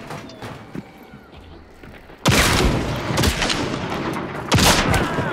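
Heavy shotgun blasts boom in Hunt: Showdown, two loud close shots a couple of seconds apart with a long rolling echo trailing each, after a quieter stretch of ambient game sound.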